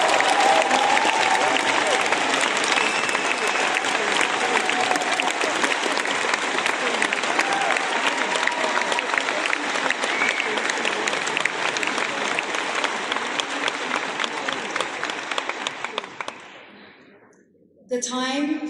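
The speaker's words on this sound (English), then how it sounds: "can we give her a massive round of applause" A conference crowd gives a long, massive round of applause, loud sustained clapping with some cheering that holds for many seconds, then fades out before a voice begins.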